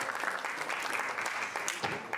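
An audience applauds the winners of a military and patriotic song contest final, a moderate crowd clapping steadily and evenly at some distance, with a brief louder flurry near the end.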